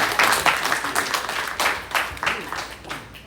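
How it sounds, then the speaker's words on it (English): An audience at a police district crime and safety meeting gives a round of applause, steady irregular clapping from many hands that rises and falls in waves across the room. "So I want to say thank you, ADA Ripper, so give him a round of applause."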